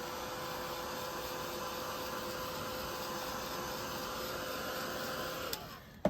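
A heat tool blows steadily to dry the back of a card, a constant faint whirring hum that cuts off near the end with a brief clatter.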